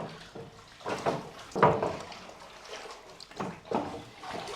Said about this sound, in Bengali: গরম পানি দেয় মুরগিটা হচ্ছে এভাবে ঘুটাঘুটি করা হয়